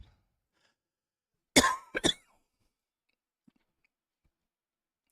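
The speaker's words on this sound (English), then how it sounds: "I mean to cough in the mic." A single close, sharp cough bursts out in a quiet room, followed by a shorter second one, then silence.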